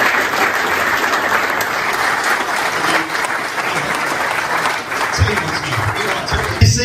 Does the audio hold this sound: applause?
yes